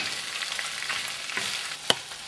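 Pork with canned bamboo shoots, paprika and herbs sizzles and crackles in a frying pan as it is stirred, with a steady hiss and a sharp scrape or clack near the end, close up and with no talk.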